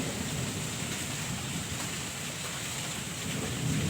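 Steady light drizzle falls in a continuous, even hiss, with a low rumble underneath and no voices.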